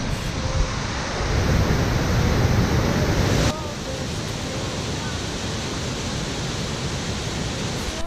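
A small waterfall and river on a trail run at the Torres del Paine ultra trail in Patagonia, a steady broad rushing of water that grows louder for a few seconds and then settles into a constant roar.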